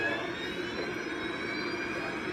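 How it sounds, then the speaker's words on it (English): An Air France jet airliner taking off from a Paris runway, a steady broad roar of jet engines with a faint whine, continuous and moderately distant. "Flight 358 powers into the sky above Paris"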